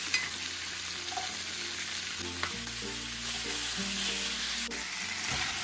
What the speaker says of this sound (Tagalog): Pwede na natin ilagay yung ating bawang at sibuyas